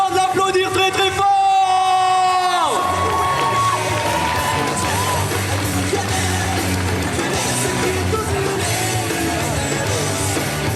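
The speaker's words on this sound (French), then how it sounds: "Je veux vous entendre l'applaudir très très fort." After a brief tonal musical burst, a festival crowd at an otaku festival cosplay parade in Châlons breaks into loud cheering, whoops and shouting that carry on steadily and densely throughout.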